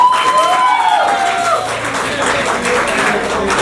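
Audience claps at an annual day event for a talent search organization, a steady round of applause with a tonal whistle-like squeal early and some voices mixed in.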